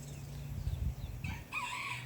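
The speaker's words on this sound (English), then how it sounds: "I want to show y'all this little bitty rooster." A tiny rooster crows once on a homestead, its brief, fairly faint call rising over a low, rumbling background.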